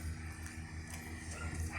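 A dog yips and barks faintly in short bursts at a distance, with low rumbling background noise in an outdoor setting.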